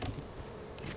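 Soft, steady buzzing of many honey bees close by at a hive, a continuous insect drone with slight swells.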